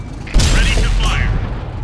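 A tank gun fires in World of Tanks on console, from a Waffenträger auf Pz. IV tank destroyer: one heavy, close boom with a deep thud, then a long rumbling tail.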